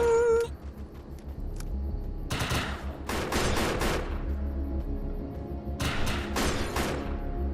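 Gunfire erupts in the PS3 shooter Defiance, coming in several loud rapid automatic bursts separated by short pauses, over a low steady game soundscape, after a brief electronic tone at the start.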